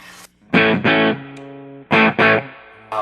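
Short bursts of heavily distorted electric guitar through a VHT Pittbull amp boosted with a pedal, loud chords cut off abruptly with brief ringing notes and silence between them.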